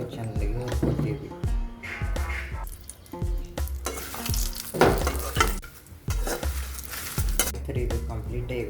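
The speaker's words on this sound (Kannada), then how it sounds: "ಈಗ ಎಣ್ಣೆ ಹಾಕೊಂಡು ಚಂದಾಗಿ ಹುರ್ಕೋತೀವಿ" Vijayapura-style masala fries in oil in a pan, loud sizzling under frequent metal stirring clatter and spoon scrapes, with a voice speaking intermittently over the cooking.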